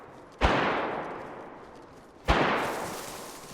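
Two sharp gunshots from an SKS rifle in the DayZ video game, about two seconds apart, each a loud crack that rings out into a long decaying echo, with no talk over them.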